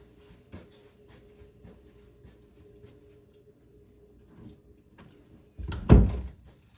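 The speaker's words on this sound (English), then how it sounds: "Let me close this door back here." An indoor door swings shut with one solid, heavy thunk near the end, close by, after faint scattered taps and rustles in a quiet room.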